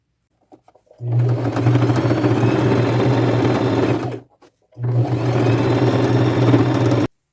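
A sewing machine runs a small straight stitch in gold thread, attaching patches to jeans; two steady, loud bursts of motor whir, about three seconds each, separated by a short pause.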